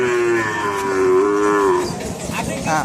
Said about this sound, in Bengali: আর দেখেন যে কি সুন্দর সুন্দর ছোটো ছোটো বাছুর